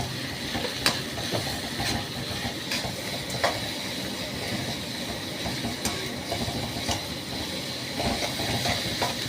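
Mutton frying in a pan with a spoonful of sugar and salt over raised gas heat, giving a steady broadband sizzle and hiss with scattered crackles and pops throughout.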